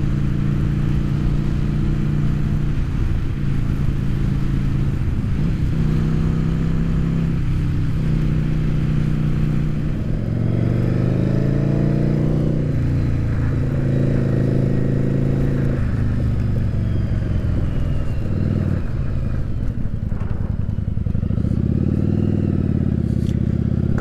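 Yamaha Virago XV750 V-twin motorcycle engine fitted with K&N chrome-top pod filters runs steadily and loud throughout, a dense low rumble with changing tone as the revs rise and fall, no talking.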